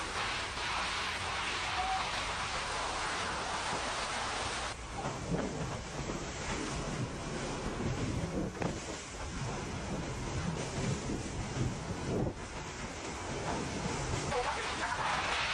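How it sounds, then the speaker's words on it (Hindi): A violent cyclonic storm in Barbados lashes with strong wind and rain, a loud, gusting roar whose buffeting rises and falls throughout. "तो देखिए जबरदस्त तूफान बारबाडोस में, और तूफान की वजह से लोगों के मकानों को नुकसान पहुंचा है, छतें उड़ गई इस तेज हवा में"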